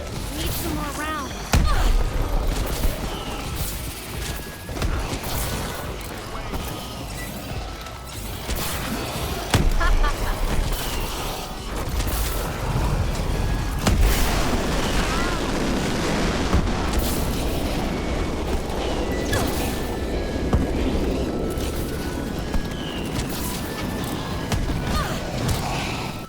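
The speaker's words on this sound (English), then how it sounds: "the burger just started shooting out a bunch of little miniature burger bombs that you can throw around and kill zombies with" Miniature burger bombs burst repeatedly in a zombie-mode shooter, dense booms and crashes piling up over game noise and gunfire, with a voice talking over the action.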